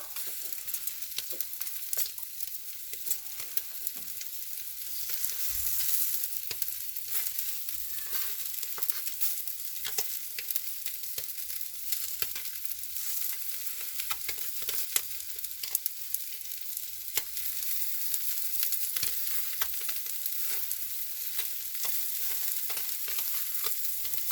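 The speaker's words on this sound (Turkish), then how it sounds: "Alev aldı mı söndürüyoruz arkadaşlar. yağı alev alıyor." Chicken grilling over a wood fire with dripping fat flaring up, a dense continuous crackling sizzle with fine pops throughout, steady and close with no talk.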